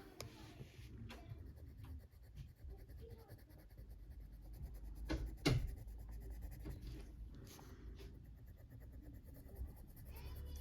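A colouring pencil shades an aubergine drawing on paper, making a faint, steady scratchy rasp of close strokes with a brief louder scrape partway through and no speech.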